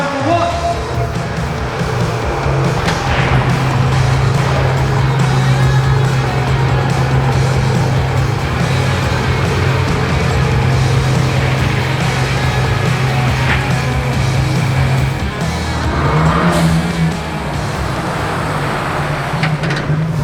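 A 2021 Ford Bronco fitted with a Corsa turndown catback exhaust holds a loud, steady rev with a deep low drone, then drops off and blips again near the end, heard close outdoors.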